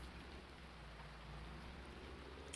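Rain pours steadily over a farm yard in Farming Simulator 19, a soft continuous hiss and patter that stays even throughout, faint, with no voices.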